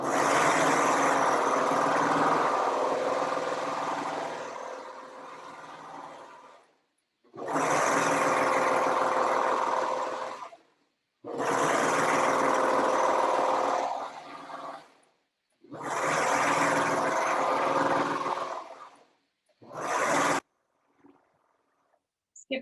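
Serger running in four long bursts along the inseam of a pair of pants, a steady loud machine whir with short pauses between runs and a brief final burst.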